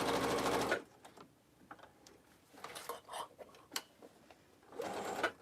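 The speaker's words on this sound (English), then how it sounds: "So I'm just sewing along the top now." A sewing machine runs along the top of a tote bag in two short close bursts, one at the start and one at the end, with light clicks and fabric handling in the quiet gap between them.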